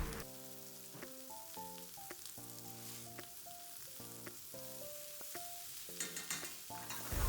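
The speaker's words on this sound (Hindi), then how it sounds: "नमक और काली मिर्च डालने के बाद सब्जियों को हम इस तरीके से थोड़ा सा टॉस करेंगे हाई फ्लेम पे" Vegetables seasoned with salt and crushed black pepper sizzle and crackle steadily as they are tossed in a pan over a high flame, while a loud melodic tune plays over the frying throughout.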